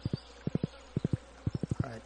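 Horse hooves clip-clop in the farming game Stardew Valley, a steady trotting rhythm of close, crisp hoofbeats falling in quick pairs and triplets.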